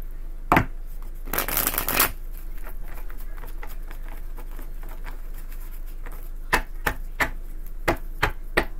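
Tarot cards shuffled by hand during a reading: a dense riffle burst near the start, then sparse soft taps and flicks of cards through the rest, close and fairly quiet with no talk.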